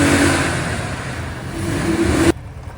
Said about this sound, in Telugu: మన వాళ్ళు బైక్స్ తీస్తున్నారు, రెడీ అవుతున్నాం బొబ్బులి ఫిష్ తేవడానికి వెళ్ళడానికి.